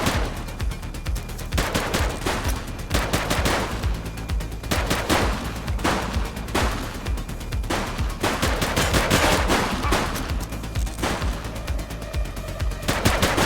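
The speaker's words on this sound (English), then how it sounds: "He's shooting!" Police gunfire in a shootout in the video game Precinct: dense, loud bursts of rapid automatic and single shots, nearly continuous for the whole stretch with only brief gaps.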